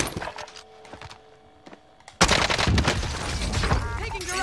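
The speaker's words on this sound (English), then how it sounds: "Taking direct fire." Gunfire in the video game Call of Duty Warzone: quiet clicks and faint game sounds, then a sudden loud burst of rapid shooting that continues densely to the end.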